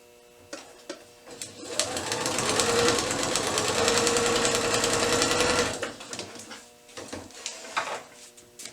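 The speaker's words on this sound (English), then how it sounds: "flip it over, and we're going to sew along this line" A sewing machine stitches a paper-pieced quilt block in one steady, close, whirring run of several seconds, with quieter handling clicks and thumps before and after.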